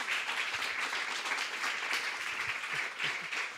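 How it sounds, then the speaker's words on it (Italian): An audience applauds at a live music talk event, steady dense clapping from a crowd filling the room throughout, with no speech over it. "vi chiedo davvero di fare un applauso a loro due questa volta"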